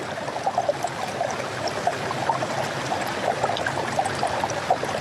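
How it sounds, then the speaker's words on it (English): A river flows steadily nearby, its water babbling and trickling in a continuous, even wash with small splashes rising throughout and no voices. "Gently going next to the river and sitting"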